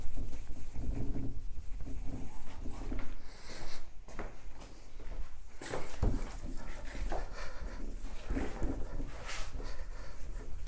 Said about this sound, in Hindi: यहां ऐसे लिख देते हैं।